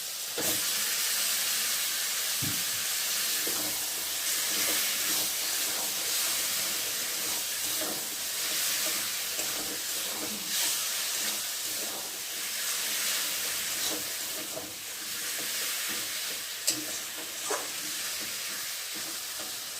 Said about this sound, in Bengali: এখন আমি চিকেনটাকে দিয়ে ভালো করে আরও কষিয়ে নেব